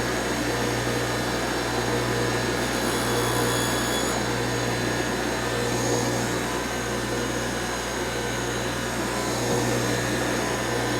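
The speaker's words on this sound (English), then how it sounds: "we'll just go ahead and grind that off just until we can get it into the grip" A power grinder cuts off the frayed end of a motorcycle control cable, producing a loud, continuous close-up whirring drone with a steady hum that runs unbroken throughout, with no talking.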